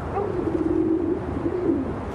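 Pigeons coo in a low, throaty, rolling call that swells and repeats twice, close and clear over a steady background murmur.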